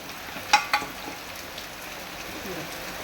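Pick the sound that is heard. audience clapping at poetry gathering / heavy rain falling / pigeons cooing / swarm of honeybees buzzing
heavy rain falling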